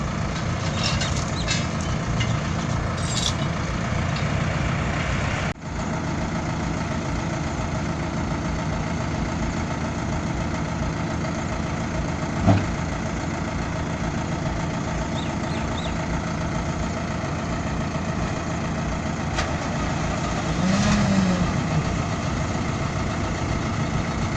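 A heavy diesel tractor engine rumbles continuously at a steady idle-like drone while pulling a truck stuck in loose soil, with a sharp knock partway through and faint clanks over the top.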